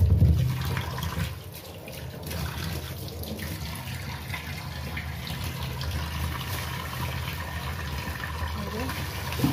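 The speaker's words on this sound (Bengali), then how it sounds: "সমস্ত সবজি যা পাই সব ধুই" Kitchen tap water running steadily while vegetables are washed, a continuous close rushing splash that shifts slightly in level as hands move under the stream.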